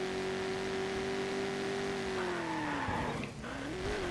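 A car engine in Watch Dogs multiplayer drones steadily with a rising and falling pitch as it drives, up close and fairly loud, with a faint tire screech.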